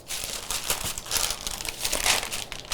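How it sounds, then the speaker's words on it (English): A block of butter is unwrapped from parchment paper, giving close, continuous crinkling and rustling with several louder crackles throughout. "So now I'm going to unwrap my butter block."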